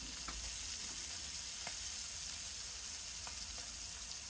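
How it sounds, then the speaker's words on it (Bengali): Small tengra fish fry to a medium crispness in a pan of oil, a soft, even sizzle heard faintly and steadily with occasional light pops and no talking. "মিডিয়াম টাইপের একটা ভাজা করে নেব আমি"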